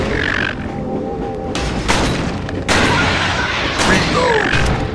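Loud, close gunshot blasts in the arcade zombie shooter The House of the Dead: Overkill, with several sharp bursts amid dense, continuous game noise and music.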